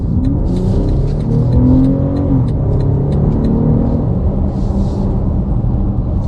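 A 2025 BMW X5 xDrive40i SUV accelerating on the road, heard from inside as a steady, smooth engine hum and road rumble that swells slightly, with no talking.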